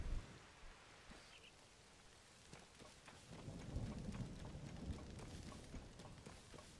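Rain and rolling thunder from a thunderstorm in the video game Zelda: Tears of the Kingdom, a steady wash of rainfall with a low rumble swelling louder in the second half, no talking.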